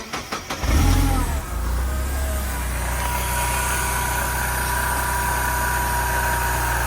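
A supercharged Mazda Miata engine cranks and fires up, then settles into a loud, steady rough idle with a faint whine, close by and without talk.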